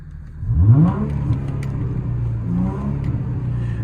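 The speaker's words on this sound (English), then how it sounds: "I'll give it a quick rev for you." A 2004 Chrysler Crossfire 3.2 V6 with a stage 1 remap and stainless exhaust gives one quick throttle blip, a rising growl that settles back into a steady idle rumble, close and fairly loud.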